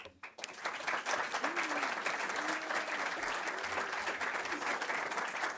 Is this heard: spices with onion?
no